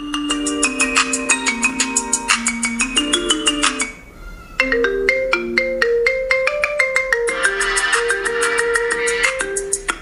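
A phone ringtone plays from an app as a bright, loud electronic melody of repeating tonal notes in a steady rhythm, briefly dropping out near the middle before resuming.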